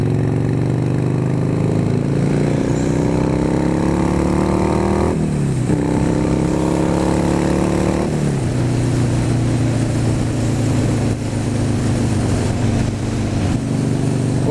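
A Harley-Davidson Softail or Sportster engine drones loudly and steadily throughout a ride, with rising and falling pitch as it accelerates and shifts gears, close and continuous with no talk.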